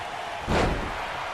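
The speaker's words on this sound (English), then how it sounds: "Paige now slamming Charlotte into the floor" A single heavy body-slam impact from a WWE 2K19 wrestling game, Paige driving Charlotte into the mat: one broad, loud thud rising mid-clip and fading into a steady background roar, with no voices.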